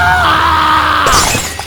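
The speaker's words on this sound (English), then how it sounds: "smashed the bowl on the floor" A bowl smashed on a floor, a loud sudden shatter with shards scattering and tinkling briefly afterward.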